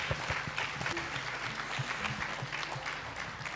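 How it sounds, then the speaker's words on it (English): Attendees at the PMI Malaysia Northern Conference 2022 applaud, a soft, distant patter of many hands clapping that continues evenly throughout, with no voices over it. "Let's give yourself another round of applause for being here"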